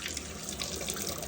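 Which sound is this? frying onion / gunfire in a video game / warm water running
warm water running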